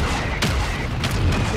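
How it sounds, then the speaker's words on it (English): Mortar fire in Call of Duty thumps and booms in a few sharp blasts amid ongoing battle noise, with players talking over the explosions. "The mortar's messing me up right now."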